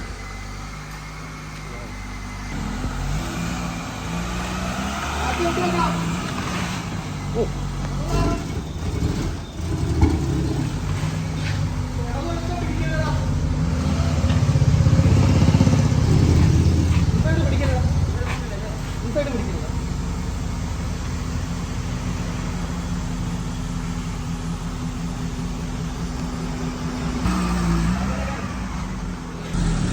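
A Maruti Zen car fitted with a swapped 1.3 engine drives along, its engine droning and swelling in a rev near the middle, with a voice speaking over the road noise.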